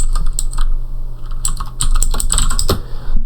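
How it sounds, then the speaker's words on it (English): Typing on a computer keyboard, a loud and close burst of quick, uneven key clicks with no voices. "we want to go ahead and type in restore"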